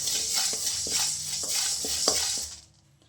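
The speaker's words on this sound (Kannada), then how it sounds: "ಈ ಮೆಣಸನ್ನ ಚೆನ್ನಾಗಿ ಹುರ್ಕೋಬೇಕು" Black peppercorns stirred and dry-roasted in a pan over low heat, a rhythmic scrape and rattle of the spoon with a soft sizzle, then the sound stops abruptly near the end.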